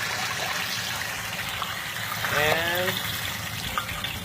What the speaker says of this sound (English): gently ladle some super hot oil